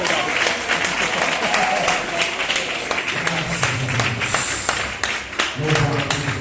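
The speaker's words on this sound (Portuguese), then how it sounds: "As palmas são para Jesus." A church congregation claps during a Portuguese-language sermon, a full, bright burst of applause that runs throughout, with a voice speaking over it toward the end.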